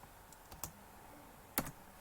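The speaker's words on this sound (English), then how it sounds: "Type content into the selected cell." A few scattered keystrokes tap on a computer keyboard, faint and sparse clicks against a quiet background hiss, with no voices.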